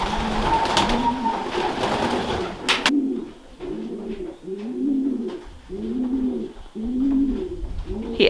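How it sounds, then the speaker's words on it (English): Several pigeons in cages coo in repeated low, throaty phrases close by, with a burst of noise and chirping near the start. "He's got 2 pigeon cages"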